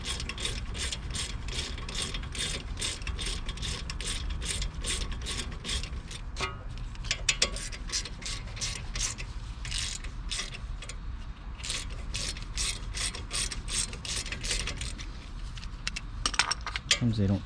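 Rapid ratchet clicking in steady bursts as a T45 bit loosens the front brake caliper bolts on a Ford Escape, close and loud with brief metallic clinks, no talking.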